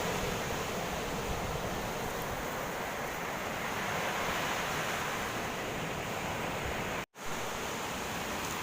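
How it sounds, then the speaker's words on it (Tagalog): Steady rushing surf of sea waves washes continuously, fairly soft and even, with a brief dropout near the end. "May paminaw ng agos ng dagat."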